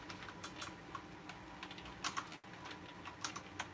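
Fast, irregular typing on a computer keyboard, close and crisp clicks in quick bursts with a brief pause partway through, in a quiet room.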